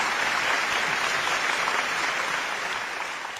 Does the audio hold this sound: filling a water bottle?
no